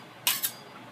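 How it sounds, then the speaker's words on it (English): A knife passes through the slots of a Hasselback potato slicing rack, giving two quick, bright metallic scrapes close by in otherwise quiet surroundings. "go through each slot to slice the potato into even slices to make a Hasselback potato"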